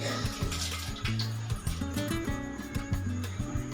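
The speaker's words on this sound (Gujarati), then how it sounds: "આપણે હવે પાણીને નિતારી લઈશું એકદમ પાણી આપણે નિતારી લેવાનું છે" Water drained from boiled potatoes pours and gurgles in a continuous stream, with bubbling, hollow glugging tones shifting in pitch throughout.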